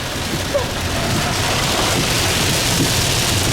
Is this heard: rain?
yes